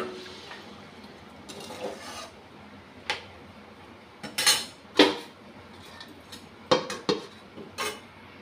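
Metal lid and utensil clinks on a pot of thin chicken curry being covered, a few sharp scattered clanks and taps, close, with quiet pauses between.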